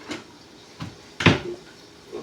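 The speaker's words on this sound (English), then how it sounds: "Close the door." A kitchen cupboard door bumps and thuds shut during cooking, a few soft knocks and one firmer close nearby, with no talking.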